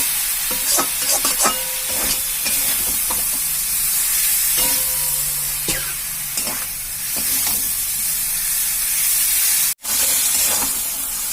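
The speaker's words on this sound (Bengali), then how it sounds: "জল দিয়ে ভালো করে এটা নাড়াচাড়া করছি যাতে মশলাটা না পুড়ে যাক" Spice paste frying in a pan for a Bengali rohu fish-head and taro dish, sputtering and sizzling loudly up close while a utensil scrapes and stirs in repeated strokes.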